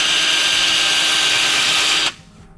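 A power drill bores a countersink hole in wood for a chicken coop, a loud steady whine for about two seconds before it stops abruptly.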